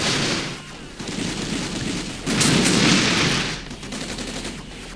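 Sustained tank and artillery gunfire from a modern-era armored battle in the wargame Armored Brigade, dense crackling shots building to a louder, heavier volley midway, then easing back into steady rolling fire.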